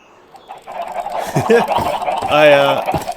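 Chicken squawks and clucks from a flock of birds spawned by launched eggs in a video game, loud and crowded, with sharp honking calls rising toward the end.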